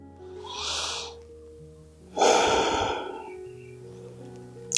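Slow, deep breathing held in a yoga warrior pose: a soft inhale followed by a longer, louder exhale, close to the microphone, over quiet background music.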